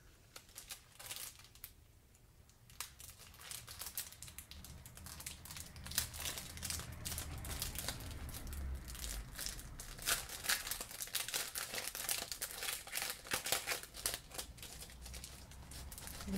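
A packet of paper feather cutouts for a scrapbooking mini album is torn open and handled, giving close, dense crinkling and rustling of paper and plastic that builds and continues in irregular bursts.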